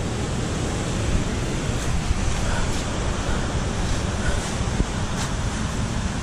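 Palnar Waterfall near a set of stairs in Dakshin Bastar, a continuous broadband roar of falling water, loud and even throughout, with no talk over it.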